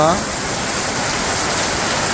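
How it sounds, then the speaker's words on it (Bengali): Heavy rain pours steadily in a loud, continuous wash; a brief tonal sound appears at the very start. "এদিকে আবার বৃষ্টি নেমে গেল"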